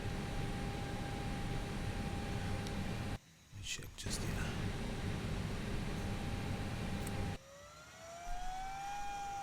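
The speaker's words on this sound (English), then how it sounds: "You can start the APU itself." An Airbus A319 auxiliary power unit spools up in the ToLiss simulator, a steady broadband whine and rush with a rising tone near the end, while someone talks over it.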